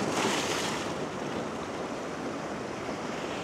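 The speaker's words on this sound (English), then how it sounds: "I do have to be careful of the waves, they are coming up and wetting the bottom of the tripod" Ocean surf washes in around a tripod on the shore at sunrise, a broad steady rush of breaking water with some wind noise, louder at the start, and no voices.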